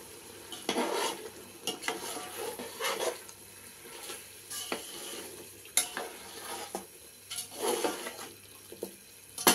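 A spoon stirs chicken curry pieces through masala in a pan, with repeated scraping and shuffling strokes and a soft sizzle underneath. The stirring is close and steady, with no talking.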